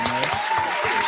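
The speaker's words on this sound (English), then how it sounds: "So definitely want to give a huge round of applause for Ashley." A brief burst of crowd applause on a podcast, loud and sustained for about a second with a faint tone running underneath.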